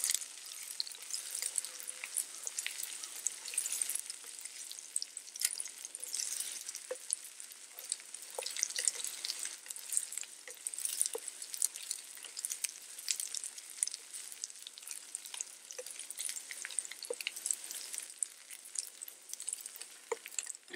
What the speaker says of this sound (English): You don't really want the onions to brown at all,